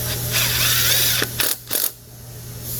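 A bolt being tightened on a Leander chiropractic table while a thoracic cushion is fitted, heard as a close run of ratcheting, mechanical clicks followed by a few short, sharp bursts.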